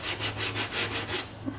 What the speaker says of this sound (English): At this point, I'll sand this out here.